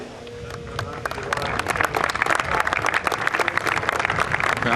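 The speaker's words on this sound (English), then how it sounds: "Applause from the drivers." Rallycross drivers at the 2019 World Rallycross round in Brittany, France, applaud as a group, a dense rising patter of many hands clapping that grows louder and steadier, with faint voices beneath.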